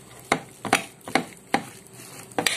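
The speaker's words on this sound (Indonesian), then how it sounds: "Sekarang kita gaulkan bahan-bahan. Semua bahan-bahan kita gaul." Ingredients for a sago dish are being mixed with salt and lemon juice, giving six sharp knocks and scrapes at an uneven, roughly half-second rhythm, close and clear, with no talking.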